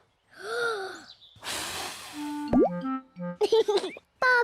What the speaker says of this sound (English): take a big breath and blow